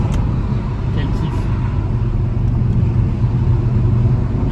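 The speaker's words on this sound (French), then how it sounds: "Ah, ce bruit, le 5 cylindres, quel plaisir, quel kiff." Audi RS3 five-cylinder engine droning steadily at close range, a continuous low rumble that holds throughout, likely heard from inside the car on a road.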